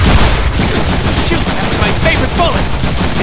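Pistol and other gunfire in the Deadpool video game, a continuous loud barrage of shots and impacts filling the whole stretch, with faint voices mixed in.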